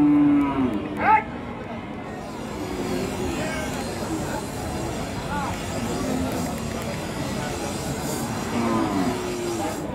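At the Monirampur cattle market, cows moo, one clear low call near the start and fainter ones later, amid a constant crowd murmur and people talking.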